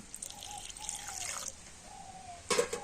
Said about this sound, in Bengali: আর এবারে আমি এই মিক্সি জারের মধ্যে অল্প একটু জল দিয়ে দেবো